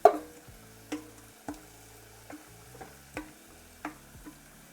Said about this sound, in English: Get it nicely and beautifully frying.